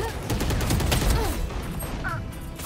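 Gunfire bursts in a shooter video game, a rapid cluster of loud shots over a noisy backdrop, with a voice talking through it.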